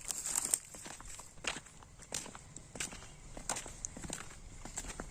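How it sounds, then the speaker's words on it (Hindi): Footsteps walk close by in an outdoor search spot, a run of crunchy, uneven steps at a steady walking pace, fairly faint, with no talking over them. "आवाज़ आ रही है भाई किसी की चलने की"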